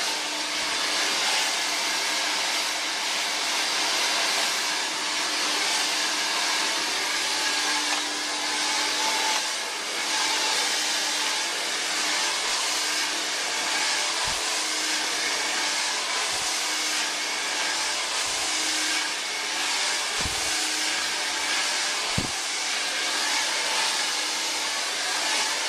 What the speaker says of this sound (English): Don't put the hair dryer into the brush, rest it on top